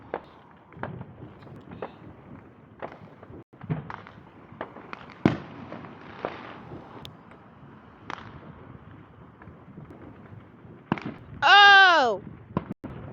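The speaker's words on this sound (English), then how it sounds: "Bombs are going off! Damn! That was a big one." Fourth of July fireworks going off nearby, scattered sharp pops and bangs across the clip, then a whistling, crackling burst near the end, with people exclaiming in between.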